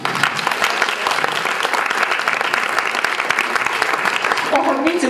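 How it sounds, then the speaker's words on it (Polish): Sustained applause from a club audience for volunteers at a public-speaking contest, dense and steady throughout at moderate level. "Brawa dla ochotników."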